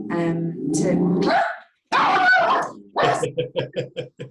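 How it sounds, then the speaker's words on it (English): Several pet dogs bark in a short burst of evenly spaced yaps near the end, after stretches of indoor talking; the barks come close and fairly loud. "that's my dog"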